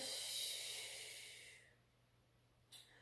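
A long, soft breath is exhaled steadily during a yoga exercise, tapering away into quiet before a brief, sharp intake or puff near the end, close and without any talk.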